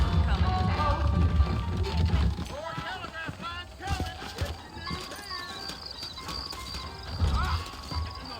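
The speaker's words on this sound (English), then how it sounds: "I got the horses saddled up and ready out front." Saddled horses trot in the Red Dead Redemption video game, their hooves clip-clopping steadily up close, with a whinny and jingling tack. Characters talk over the sound.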